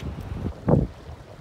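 Wind gusting over open water while out on a boat, steady rumbling buffeting on the microphone with one stronger gust in the middle, close and brief, no voices.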